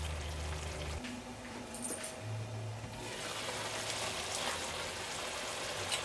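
Curry leaves frying in oil for a Cape Malay fish curry, a soft steady sizzle and crackle in the pan, faint and continuous, rising a little midway with light stirring.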